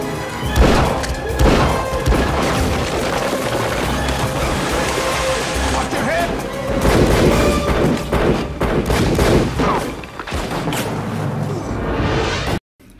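Dense film soundtrack of a flooded town in heavy non-stop rain, with crashing, thudding impacts and gunfire from shootouts. It is loud and constant throughout, then cuts off abruptly at the end.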